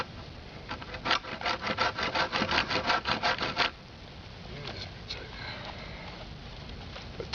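A Gerber Gator collapsible saw with a coarse blade cuts wood in a quick run of about a dozen rhythmic rasping strokes, then stops, leaving faint scraping and handling noises.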